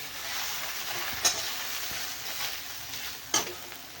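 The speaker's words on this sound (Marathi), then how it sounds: "ही भेंडी आपल्याला मस्त भाजून घ्यायची आहे बघा या अशी लाल होईपर्यंत" Okra fries in a pan for dhaba-style gravy masala bhindi, making a continuous close sizzle. Two sharp clacks of a spatula or stirring break through it.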